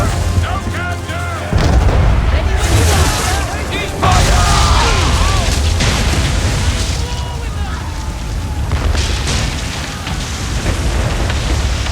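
Ship cannons firing in Assassin's Creed III, with loud heavy booms hitting around two and four seconds and a continuous rumbling roar of battle noise throughout, voices shouting at times underneath.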